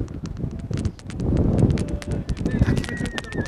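A horse's hooves clop in a quick, steady rhythm at a kok-boru (ulak) horse gathering, close and fairly loud, with rustling and wind in the background and a thin whistle late on.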